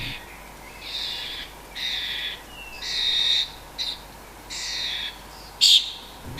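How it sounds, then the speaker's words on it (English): Young starlings chirping and calling at a feeding bowl, a series of short bright calls in bursts with gaps between, moderately close over a quiet outdoor background. "The young starlings are a little quieter as they actually have the bowl to themselves for a change"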